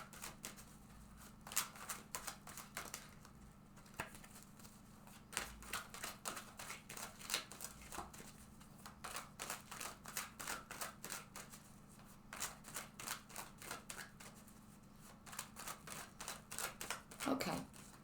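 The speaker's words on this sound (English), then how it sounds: "First of all, I'm just going to shuffle." A deck of tarot cards is shuffled by hand in quick, crisp riffling bursts, repeated in irregular rhythm over about eighteen seconds, close and quiet against a low background hum.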